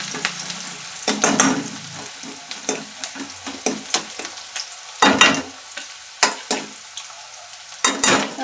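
Onion frying in a pan, a low sizzle punctuated by repeated sharp scraping strokes of a spatula, irregular and close, with short quiet gaps between bursts.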